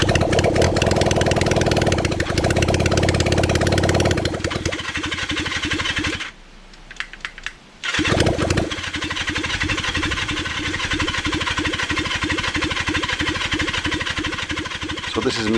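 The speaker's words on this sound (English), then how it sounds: "So this is me turning over the bike for a long period of time before I realised that I'd run out of fuel." Kawasaki Zephyr 750 motorcycle engine cranking over at length on the starter with no fuel, a loud, steady churning that runs for about six seconds, stops briefly, then resumes for the rest of the span without catching.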